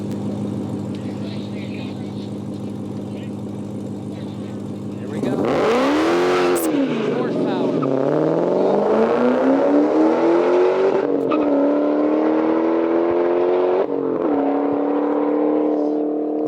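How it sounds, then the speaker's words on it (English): A powerful modified car of just under 900 horsepower, tuned by Richard Petty's Performance Speed Shop and running methanol injection, idles with a steady drone, then roars loud and close through repeated revs. "this car is also obviously very powerful, just under 900 horsepower, modified by Richard Petty's Performance Speed Shop"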